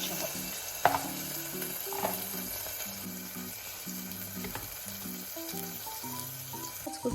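Ginger paste and garlic fry with masala in a pan, giving a soft steady sizzle with a few clinks and stirring taps, under quiet background music.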